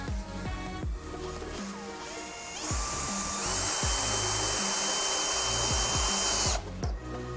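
A power drill drives a screw into a piece of wood during a woodworking session, a rising whine that holds steady for a few seconds after short start-up bursts, close and loud.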